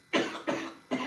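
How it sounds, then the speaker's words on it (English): Three short, harsh coughs, evenly spaced, close by and fairly loud, with quiet room tone between them. "client's coughing in the background"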